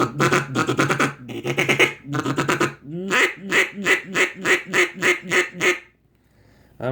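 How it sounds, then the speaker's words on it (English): A homemade duck call blown in rapid bursts of loud, nasal quacks, a few choppy series followed by a longer run of evenly spaced quacks, close and dry, ending in near silence. "it still sounds like a duck call"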